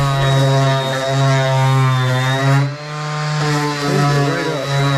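A Dewalt 20V cordless random orbit sander running with a loud, steady motor whine and strong harmonics, close up, dipping briefly midway before resuming its even drone.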